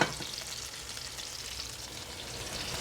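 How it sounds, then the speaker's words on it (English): Skirt steak searing in a pan gives a soft, steady sizzle that starts slightly louder, then settles into an even hiss with no voices. "So this is really good for as far as pan searing."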